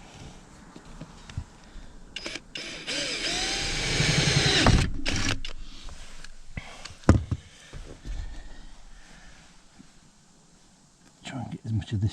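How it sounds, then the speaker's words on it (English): A power drill drills out a punched hole in aluminium during a camper van build, giving a few short whining bursts mixed with clicks, knocks and handling noise, with quiet pauses between. "drill that out"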